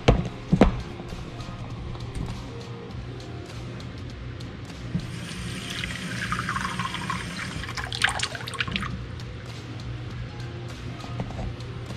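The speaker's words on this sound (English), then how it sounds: "fill this part way with water" Water pours steadily into a container of plum seeds nearby, a continuous splashing rush with a few drips and knocks at the start.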